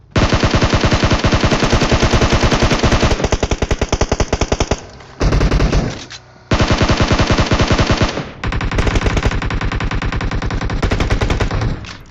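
An assault rifle in PUBG Mobile sprays loud sustained automatic fire in long bursts, broken by two short gaps before the firing resumes.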